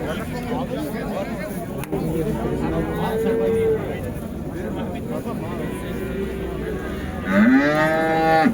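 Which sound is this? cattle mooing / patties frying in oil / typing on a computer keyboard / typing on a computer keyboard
cattle mooing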